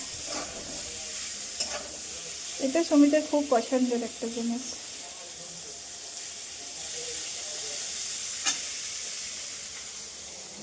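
Neem leaves and potato fry in a pan with a steady, soft sizzle and occasional stirring, while a voice briefly talks over it in a home kitchen.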